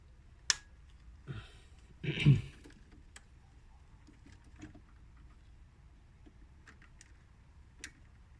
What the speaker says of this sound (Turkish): Gaz potansiyometremizin soketini ekleyelim